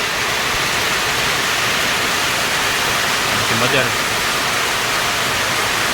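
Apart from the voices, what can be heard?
heavy rain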